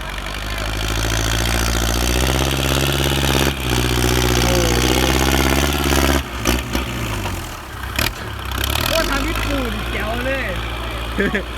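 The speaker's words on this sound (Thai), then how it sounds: "มันเสียงทอเทอร์โบเนาะ" A Kubota L5018 tractor's turbocharged diesel engine runs nearby with a steady low droning idle, briefly dipping and revving, while people talk over it.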